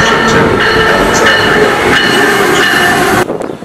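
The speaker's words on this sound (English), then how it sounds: "Now arriving on track 4 is the Amtrak 406 Westbound train" An Amtrak passenger train arrives at a station on track 4, rumbling past loudly and close, with a steady roar and faint rhythmic clatter that cuts off near the end.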